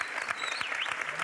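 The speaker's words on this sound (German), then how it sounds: "So viel Applaus haben wir in der Fußballkarriere noch nicht gehabt." A short burst of steady audience applause at a televised football discussion, dense clapping filling the whole moment with no voices over it.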